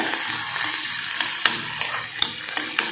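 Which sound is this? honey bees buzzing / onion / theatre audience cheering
onion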